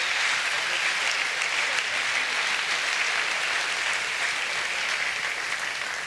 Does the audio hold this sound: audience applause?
yes